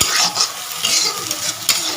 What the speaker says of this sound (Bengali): এখানে সব মশলা দিয়ে যে ভাজছি